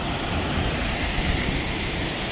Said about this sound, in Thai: เสียงน้ำตกแรงมากวันนี้